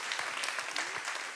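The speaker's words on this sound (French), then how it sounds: "on les applaudit" Brief burst of audience clapping at a French Christian church service, steady and moderately loud for just over a second, with a faint voice underneath.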